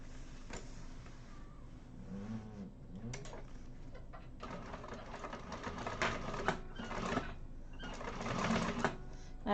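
Sewing machine top stitching the back panel of an Aurora triple-zip bag, its motor running in steady bursts that grow louder toward the end, with no talk.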